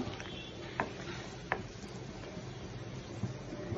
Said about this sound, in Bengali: একটু এটা একটু কষিয়ে নেব, আবার ঝোল দেব।